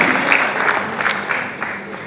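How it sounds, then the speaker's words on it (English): Audience at a 2021 national cooperative awards ceremony applauds as a minister returns to his seat, a steady wash of clapping in a hall that eases off toward the end. "Please deserve a better round of applause as he goes back to his seat."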